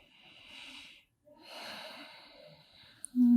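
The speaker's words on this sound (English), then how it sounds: "take 3 deep breaths here" Deep breaths taken during a seated yoga forward fold: two slow, soft airy exhalations close to the microphone, separated by a brief pause, with a sharper sound at the very end.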